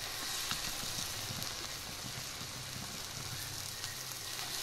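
Food sizzles and fries steadily in hot oil, a dense close hiss that runs unbroken with faint stirring bumps and no voices.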